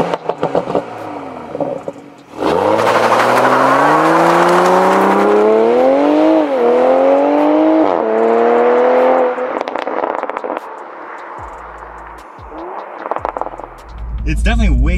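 A Toyota A90 Supra revs loudly, then its engine note climbs steeply through several gear changes during a launch-control start, close and roaring before easing off, with short clicks and bumps and some talking near the end.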